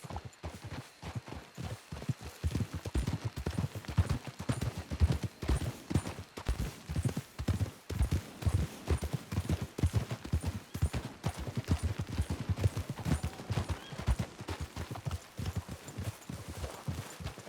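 Horses trot steadily in Red Dead Redemption 2, hooves clip-clopping in a continuous rhythmic pattern, close and fairly loud throughout with no talk over them.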